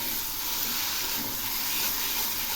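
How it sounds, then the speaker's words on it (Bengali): Spices sizzling steadily in oil in a pan while being stirred for Bengali aloo dum, a continuous loud hiss with no pauses or voices. "এখন আমি এই মশলাগুলো খুব ভালো করে কষিয়ে নেব"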